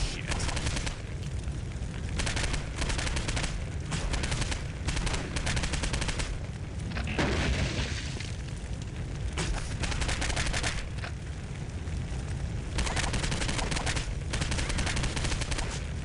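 Assault weapon gunfire from the Postal 2 video game: dense, sustained automatic bursts rattle loudly and almost without pause for the whole stretch.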